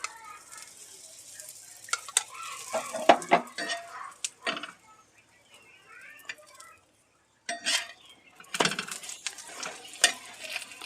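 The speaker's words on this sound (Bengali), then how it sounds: "আমি সাদা তেল দিয়ে ভাজছি" Soybean paratha frying in white oil in a home kitchen, with soft sizzling and intermittent sharp clinks and scrapes of a utensil against the pan, coming in bursts with brief quiet gaps.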